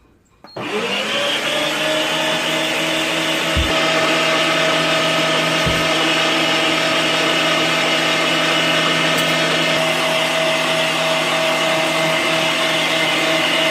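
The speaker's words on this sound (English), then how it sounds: "we're going to do a second grind, just a quick grind to make sure all of our seasoning is mixed in well with our meat" An Ava Pacific electric meat grinder runs steadily on a second grind of seasoned chicken and pork, a loud continuous motor whine with a steady mechanical drone that starts abruptly and holds with no talking.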